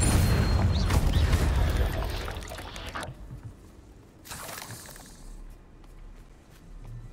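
A Confringo blast spell from Hogwarts Legacy bursts loudly in a roaring, rushing wash that fades over a couple of seconds, followed by a second softer whooshing burst and a lingering crackle with no talking.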